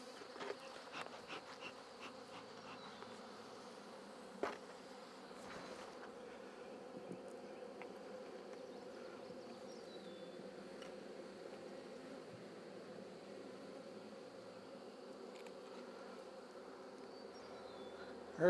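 Honeybees drone steadily around an open hive during beekeeping work on a cell builder, a dense continuous buzz close by, broken only by a few light knocks and clicks from handling the frames.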